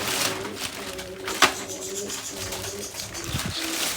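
Soft pigeon cooing repeats through steady low background noise, with a single sharp knock partway through, as pigeons are fed chickpeas.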